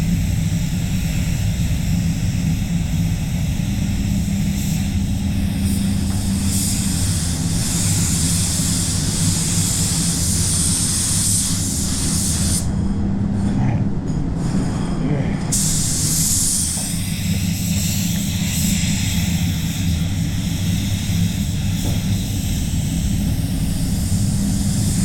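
A spray gun lays down Cromax 610 solvent basecoat paint, giving a steady, loud, unbroken airy hiss that runs the whole time with only slight changes in tone.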